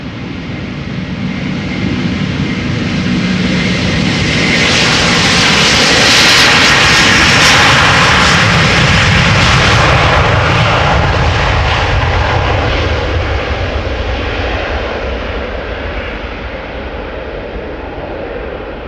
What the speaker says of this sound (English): Delta Airlines Flight 71 A330-300 outbound to Atlanta,